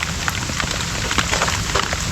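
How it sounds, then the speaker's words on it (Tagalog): Steady rain falling outdoors near a river, a dense, loud hiss with scattered drop impacts, continuous and close, with no voices. "Tinamaan pa ng ulan."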